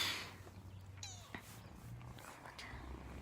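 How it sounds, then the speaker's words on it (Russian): A young pet cat gives a few faint, short meows in a quiet indoor room with low background hum. "Мяукаешь, да?"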